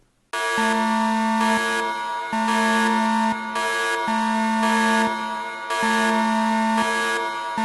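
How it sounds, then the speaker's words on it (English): A loud, steady electronic siren blares in repeating two-tone cycles, switching pitch every second or so, with no talk. "Here it comes. Here's the siren"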